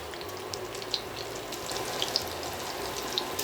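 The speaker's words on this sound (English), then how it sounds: "when it sizzles like that, you know that it was hot enough." Steady crackling sizzle of chicken frying in hot oil, with a few sharp pops standing out over the hiss.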